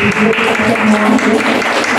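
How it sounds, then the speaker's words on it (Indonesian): Steady clapping from a crowd fills the whole moment, dense and continuous with a faint murmur of voices mixed in. "tepuk tangan dulu Bapak"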